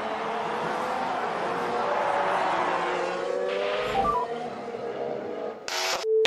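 A 2018 Formula 1 car runs in a steady, continuous engine drone whose pitch climbs gradually, with a short burst of noise near the end.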